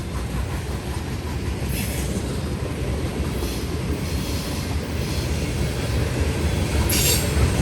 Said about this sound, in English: Norfolk Southern covered hoppers.